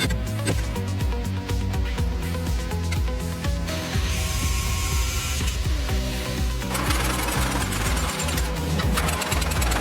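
Heavy grinding during restoration of an armored vehicle, a loud, continuous, harsh mechanical drone with rattling texture and brief surges, running the whole time with no pauses.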